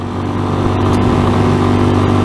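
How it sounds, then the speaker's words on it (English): A 2020 RPS Hawk 250 Enduro motorcycle cruises on the road at about 40 mph, its engine holding a steady, loud, buzzing drone with wind noise and no talking. "if you just feel like you're whining the engine out, and I'm only at, you know, 40 mile an hour"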